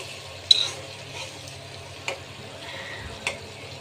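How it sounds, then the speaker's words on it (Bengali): Fish frying in a pan gives a low, steady sizzle with a few sharp clicks or spatula taps standing out, close and fairly quiet. "মাছ ভাজি করছি, টমেটো ধনেপাতা দিয়ে ভুনা করব"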